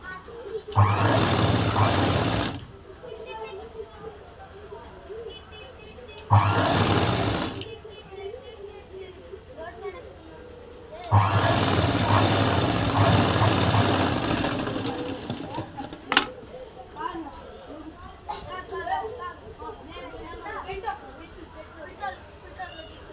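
Sewing machine stitching piping onto a blouse runs in three loud bursts, roughly two, one and four seconds long, with quiet pauses between them where faint handling noises are heard.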